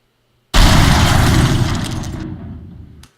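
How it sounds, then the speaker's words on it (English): A video game missile explosion from a big mech robot's shot, a sudden loud burst that hits at once and then decays as a broad roaring rumble for about two and a half seconds before cutting off. "There's also a missile explosion when the big mech bot shoots at you"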